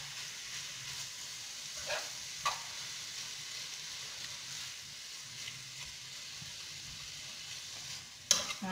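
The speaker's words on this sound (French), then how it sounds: "on va émietter la viande hachée à l'aide d'une fourchette pour bien incorporer" Minced meat with spices sizzles quietly in a pan up close, with occasional soft scrapes as a fork crumbles it and a louder clatter near the end.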